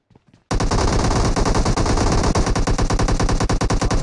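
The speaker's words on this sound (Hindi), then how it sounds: "पीछे से फायरिंग हो रही थी" Dense automatic gunfire from a PUBG match opens after a brief quiet start, then stays loud and continuous as rapid bursts overlap, with no talking.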